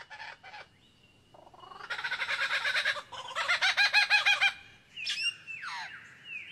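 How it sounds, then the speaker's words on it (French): A loud, varied birdsong: rapid repeated clucking and chattering phrases in bursts, then sweeping whistled notes, close by over a quiet background. "un oiseau répète son tour de chant. Un magnifique oiseau lyre, aussi appelé ménure superbe."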